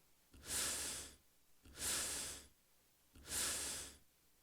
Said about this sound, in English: There is also several variations of an inhale sound that sounds kind of like this.